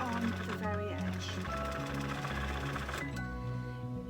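A sewing machine runs steadily, stitching right along the very edge of a lined, crossed-over drawstring bag after a couple of reverse stitches, its hum continuous and close over a tonal background.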